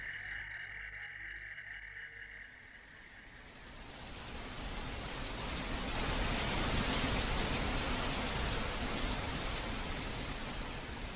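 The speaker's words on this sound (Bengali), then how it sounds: "ঝড় বৃষ্টির যে অবস্থা বুঝলি" A storm-and-rain effect from a Bengali radio drama: a broad, rushing downpour swells in after a few quieter seconds and holds steady and loud to the end, with no voices.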